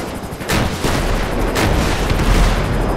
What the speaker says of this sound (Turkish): Şu helikopteri de patlatacağım.